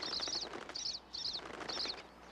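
Pine siskins flit around a backyard thistle feeder, with repeated short bursts of high chittering calls and soft wing flutters, faint and fairly close, with no one talking.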